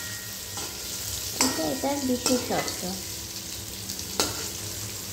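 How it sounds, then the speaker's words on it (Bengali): Tofu pieces frying in hot oil in a pan, a constant close crackling sizzle with a few louder bubbling pops and scrapes as they are turned, and a brief spoken phrase over it. "এভাবে উল্টে আরও 3-4 মিনিট ভেজে নেব।"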